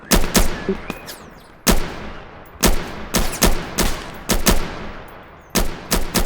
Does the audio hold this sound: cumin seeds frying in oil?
no